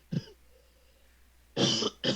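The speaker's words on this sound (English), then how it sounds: "I have to cough." A short cough, then after a quiet pause two harsher coughs in quick succession, close to the listener.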